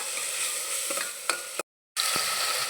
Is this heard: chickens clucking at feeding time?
no